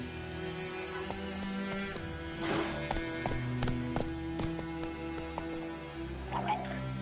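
Roach, a horse in The Witcher video game, galloping: quick, rhythmic hoofbeats at a moderate distance, set over a layer of sustained background music.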